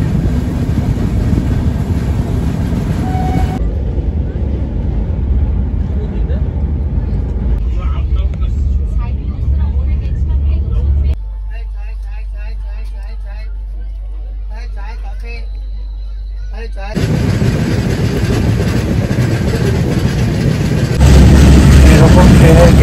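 The 22612 MGR Chennai SF Express rumbles along from Asansol in pouring rain, heard from near the open door as a loud, steady roar and hiss that shifts abruptly in tone several times.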